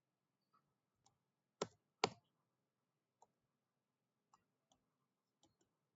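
Sparse, quiet clicks of a computer mouse, two sharper closer clicks early and several faint ticks spaced irregularly after, with no talk.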